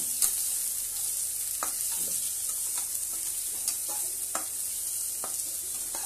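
Onion frying lightly in a pan, a soft continuous sizzle with occasional stirring scrapes and taps, close and quiet with no talking.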